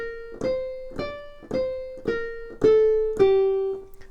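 A piano note struck fortissimo, as hard as possible, six times in a slow, even rhythm. Each loud, close attack rings briefly before the next strike, with no other sounds around it.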